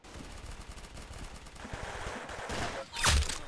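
Rapid bursts of gunfire in the Roblox shooter Arsenal, a fast rattling stream of shots at moderate level, ending with a louder sharp burst near the end.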